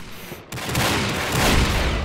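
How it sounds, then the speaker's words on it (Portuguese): In the shooter game Combat Arms, a barrel struck by gunfire blows up with a sudden loud blast that spreads into a sustained crackling, roaring burst of noise. "Eu estourei o barril sem querer."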